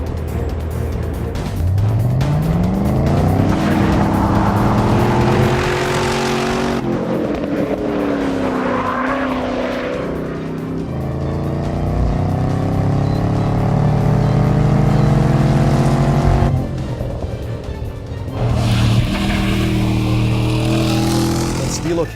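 A 2012 Chevy Camaro ZL1 drives on a race track, its engine revving loudly up and down through repeated gear changes. A voice speaks briefly at points.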